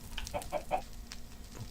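A chicken in a video game gives three quick, close clucks in a row, then a fainter cluck follows over low background game noise.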